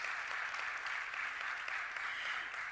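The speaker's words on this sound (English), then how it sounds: "one more loud round of applause for Kalki as she takes the stage." An audience at a gender-equality conference applauds in steady, continuous clapping that sounds fairly distant and soft, with no talk over it.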